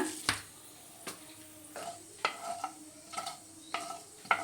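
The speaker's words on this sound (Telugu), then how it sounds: "మెంతులు వేసిన కొన్ని ఆవాలు వేస్తా." Fenugreek and mustard seeds sizzle in hot oil in a pan, a soft crackling hiss punctuated by repeated sharp clicks and spatula taps at irregular intervals, close by with no talk.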